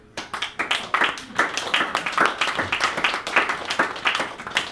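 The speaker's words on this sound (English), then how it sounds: "let's go ahead and let's applaud the least important person here" Applause from a small audience at a stand-up comedy house concert, with sharp close hand claps building into uneven bursts that carry on throughout, with some voices mixed in.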